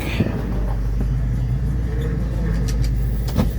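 A Chrysler LeBaron parts car idles and rumbles as it backs up slowly, its low engine drone steady and close, with a few faint clunks, while someone talks nearby.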